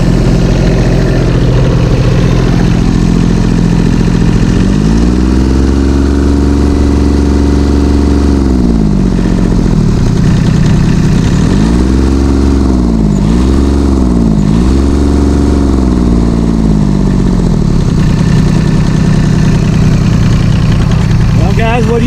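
An old garden tractor engine runs loud and close, idling steadily with several rising and falling revs in the middle before settling back to a rough idle.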